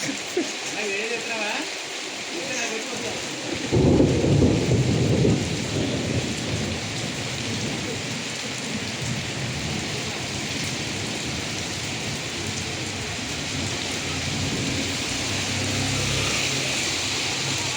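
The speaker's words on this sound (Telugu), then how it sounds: "వాన వచ్చినా కానీ" Heavy rain falls in a dense, steady roar with rumbling thunder swelling loudly for a couple of seconds early on, then continuing as a constant downpour throughout.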